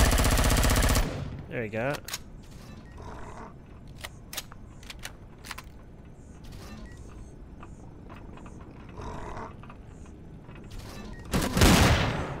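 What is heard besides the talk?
gunfire from a gun in the video game Empyrion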